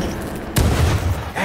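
Spell detonation in the video game Lichdom: Battlemage, a single sharp, loud blast that booms and rumbles for nearly a second before settling.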